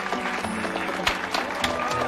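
Brief burst of applause from an indoor audience in a Valentine's-themed romance film scene, mixed clapping with a few sharper claps and a murmur of voices underneath.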